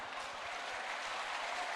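An audience at a crypto regulation webinar claps, giving a faint, continuous patter of applause that stays even throughout, with no voices over it.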